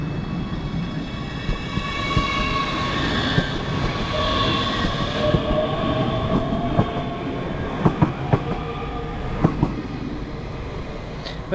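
A train rumbles steadily along the rails between Edinburgh and Gourock, with a whining hum and occasional sharp clacks and squeals from the wheels.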